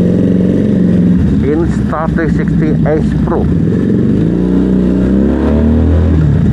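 A motorcycle engine revs and accelerates up close, a buzzing mid-pitched drone rising and falling, with someone talking over the engine.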